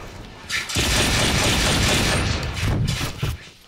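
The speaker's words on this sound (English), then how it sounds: "here's some gameplay to prove it to you that it is. I'm just using a really slow gun" Game gunfire from a slow-firing weapon in the shooter Brink, a dense, loud burst of shots running for about three seconds with mechanical clatter, with no voices.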